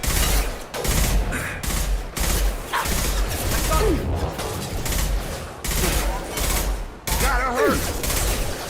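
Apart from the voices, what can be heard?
heavy gunfire in the video game Mass Effect 2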